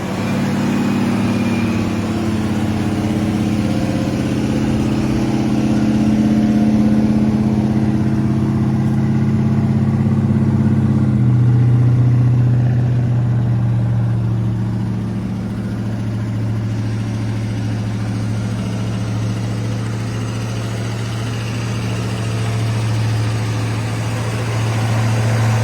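A 1969 Ford Torino Fastback with a 428 Super Cobra Jet V8 idles with a steady, deep burble, the pitch shifting slightly midway as if revved gently, heard alone without talking.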